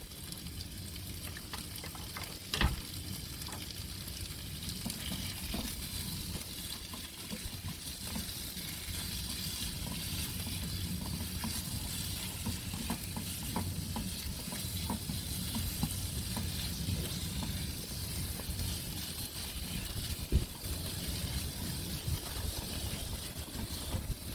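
Sliced pork shoulder fries in a pan at a campsite with a steady, constant sizzle that fills the whole stretch. A few faint clicks and knocks are heard, and nobody speaks.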